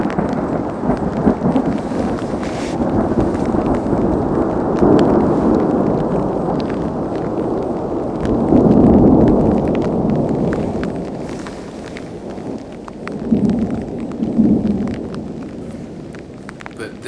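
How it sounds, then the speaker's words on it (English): Thunder echoing off the walls of a slot canyon during a storm: long, heavy rumbling that swells and fades in waves, with a loud roll near the middle and a softer surge later, under a constant rushing noise. "the lightning would come, trailed by the thunder, but it amplified itself by just echoing and bouncing off the slot canyon walls"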